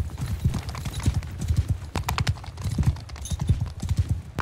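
Cavalry horses gallop across a battlefield in the game Mount and Blade 2: Bannerlord, their hooves drumming in a rapid, uneven clatter of many overlapping beats at moderate loudness, with no talking heard.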